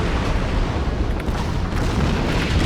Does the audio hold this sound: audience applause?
no